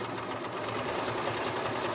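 A sewing machine stitches a drawstring gift bag, a steady close mechanical whir running continuously throughout.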